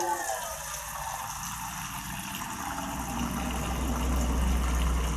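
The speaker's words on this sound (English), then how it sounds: "First step, you can use pan and add some water." Water poured into a cooking pan to boil for Korean spicy noodles: a steady, close gushing fill that runs throughout, with a faint voice in the background.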